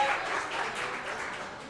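An audience at a girls' flag football event applauds the team's coordinators, a short steady patter of many hands clapping at moderate volume.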